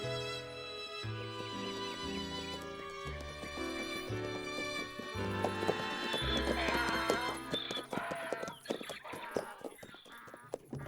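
In an animated cartoon, donkey hooves clip-clop at a gallop, a rapid clatter that builds in the second half beneath lively music.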